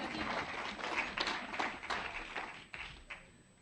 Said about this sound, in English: Please come on stage and give them a clap.